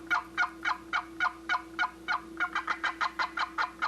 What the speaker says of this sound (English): You're coming over one paddle length and working that call.